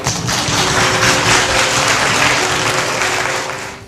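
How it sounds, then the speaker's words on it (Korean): Sustained audience applause at a Korean book concert as panelists take the stage, a dense, loud wash of many hands clapping that holds steady and tapers slightly at the end. "모두 큰 박수 부탁드릴게요"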